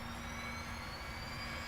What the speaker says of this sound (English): you can hear the APU spooling up, and then everything comes to life